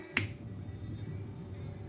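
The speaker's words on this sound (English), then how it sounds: "First of all, I snap my fingers" A single sharp finger snap near the start, close and crisp, followed by quiet room tone.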